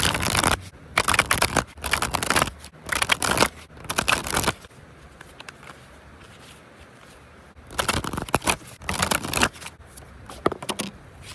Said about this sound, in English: Let's shuffle your deck and see who is thinking of you.